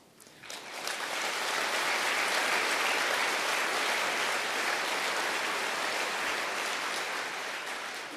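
Large audience at a Rotary International address applauding, swelling quickly from a few claps into a broad, sustained roar of clapping that holds steady and fades slightly at the end.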